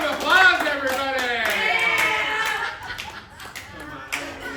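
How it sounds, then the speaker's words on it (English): Audience at a live improv comedy show claps and chuckles while an emcee's voice carries loudly over the top, the clapping thinning into scattered hand claps toward the end. "Give them a round of applause, everybody!"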